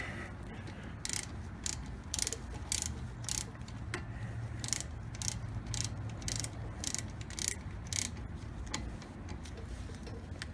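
A ratchet wrench tightens 14 millimeter brake caliper bolts during a front disc brake service, producing a quick series of sharp repeated clicks in a steady rhythm, close and fairly quiet, with no talk.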